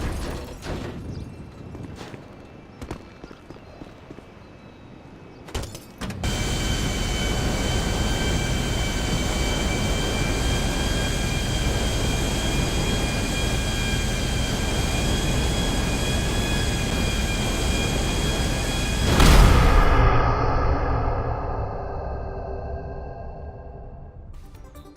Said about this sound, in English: an airline mechanic in Seattle stole an empty passenger plane before dying in a crash landing